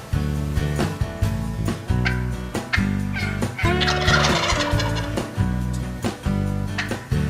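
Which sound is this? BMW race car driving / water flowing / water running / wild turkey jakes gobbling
wild turkey jakes gobbling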